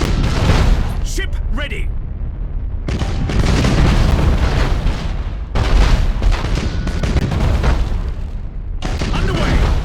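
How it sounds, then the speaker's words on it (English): Warship weapons firing in Battlefleet Gothic: Armada, heavy booming broadside blasts rolling in long loud bursts with brief gaps, layered under game voices calling out orders. "Fire all weapons."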